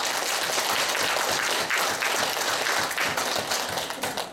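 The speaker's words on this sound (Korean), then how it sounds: "우리 이분들 응원의 박수 한번 부탁드립니다" An audience at a hospital show claps steadily and loudly for the performers, a dense continuous patter of many hands that thins slightly near the end.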